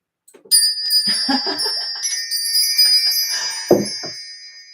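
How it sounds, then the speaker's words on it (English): Wind chimes ringing on their own, with no one talking. A cluster of bright, sustained metallic tones rings out close and clear, with a few softer strikes and one louder clang near the end. The overlapping tones linger and decay slowly. "let's call in spirit with a little bit of wind chime time"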